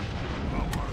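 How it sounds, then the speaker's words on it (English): Cannon fire in a video game battle: a dense, loud rumbling boom fills the short moment, with a sharp crack near the end, under shouting voices. "Do you hear that? That's the cannon!"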